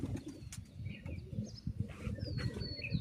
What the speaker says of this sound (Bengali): 7টা কবুতর উড়িয়ে দিলাম।